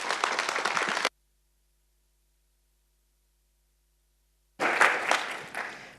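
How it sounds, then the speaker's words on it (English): Audience at a talk on the creative process and watercolour painting claps to welcome the speaker, two short bursts of fairly faint applause separated by a few seconds of silence. "Can we have a round of applause"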